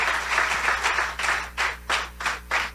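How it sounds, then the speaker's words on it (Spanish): A church congregation applauds in uneven bursts of clapping that swell and fade in short waves, moderately close, with no talk over it. "¿Le puede dar un aplauso al Señor por eso?"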